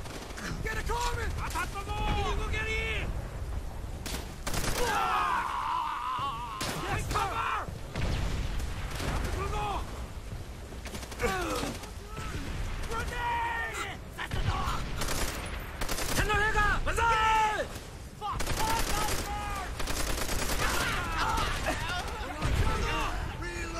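Bursts of gunfire from a hard-kicking automatic weapon in the Call of Duty: World at War video game, rapid loud rattling volleys with explosions between, while someone talks throughout.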